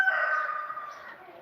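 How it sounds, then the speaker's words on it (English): A rooster crows once, a single loud, near cry drawn out and falling away, heard alone. "You noisy rooster."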